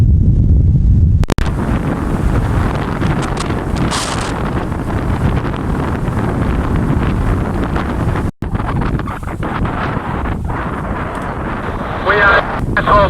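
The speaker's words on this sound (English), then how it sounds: "You want to hear the wind?" Strong southerly wind buffets a boat on Sydney Harbour, roaring steadily and close against the microphone for the whole stretch, with one brief break near the middle and a continuous low rumble beneath.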